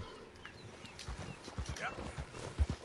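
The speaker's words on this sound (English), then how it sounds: "I'm good at driving horses, trust me." Horse hooves clip-clopping in a video game, a steady walking rhythm of soft clops, fairly quiet under a man's ongoing speech.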